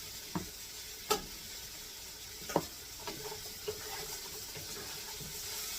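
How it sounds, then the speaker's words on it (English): Cabbage soup stirred in a cooking pot over a steady background sizzle, a few sharp scrapes and knocks of the utensil standing out near and clear with no talking. "You get all that stirred in too."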